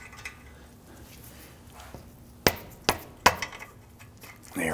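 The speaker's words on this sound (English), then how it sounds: "I'm gonna use our mallet here to go ahead and tap this up." A mallet tapping a front lower ball joint into place on a 2009-2017 Volvo XC60, three sharp, close knocks in quick succession after a quiet stretch of faint workshop noise.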